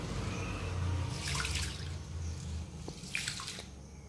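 Rice being washed in water in a home kitchen: splashing and swishing bursts, a couple of soft drips and sloshes over a low background hum, close and fairly quiet.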